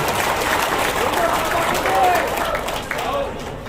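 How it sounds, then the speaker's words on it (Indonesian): Audience at a Rokan Hilir family association inauguration in Batam applauds the city's mayor, broad crowd clapping and cheering mixed with a voice over a loudspeaker. "Kita beri tepukan yang meriah untuk beliau."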